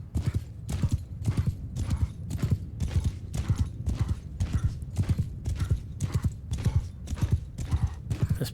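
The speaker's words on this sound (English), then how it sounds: "This poor horse." Horse hooves clip-clop at a slow, steady march across a battlefield in the Mount & Blade II Bannerlord video game, a continuous rhythmic plodding that stays fairly loud and close throughout.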